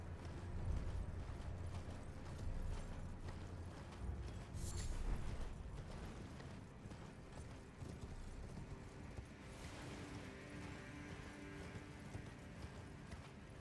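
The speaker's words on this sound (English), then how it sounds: "everybody's favorite extended horse riding sections" Horse hooves clip-clop steadily through an extended riding section in a video game, a continuous rhythmic gallop at moderate level with occasional creaks and a brief neigh over ambient game sound.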